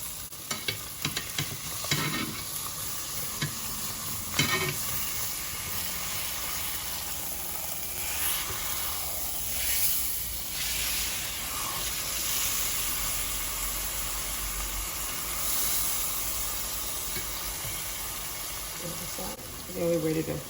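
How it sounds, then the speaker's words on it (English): A pot roast sears in a hot pan, giving a steady close sizzle with scattered crackles and stirring scrapes that runs through the whole stretch, with a faint voice now and then underneath. "let's get it browned up. Get a nice sear on the bottom of it."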